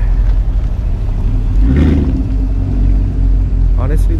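Engine of a Chevrolet Corvette C8 at a JDM car meet in Fremont, California, a steady loud low rumble with a brief swell of revving near the middle, crowd chatter and talk mixed in.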